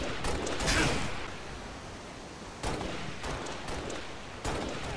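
Gunfire in the Halo multiplayer video game, with broadband shot bursts near the start and sharp reports around the middle and end of the clip, over a steady noisy game background.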